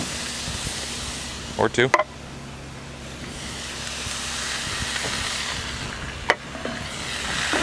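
Crushed tomatoes poured from a can into a pan of sizzling sausage, peppers and garlic, giving a steady broad hiss with a brief clattering splash near the start and a speaking voice briefly over it.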